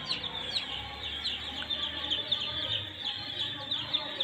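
Many chicks peep and chirp constantly in a high, busy chorus, like a crowded poultry shed, with a low hum underneath.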